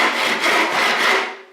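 Western backless hand saw cutting a thin wood board clamped at a bench, a close, loud rasping stroke that fades as the cut nears its end.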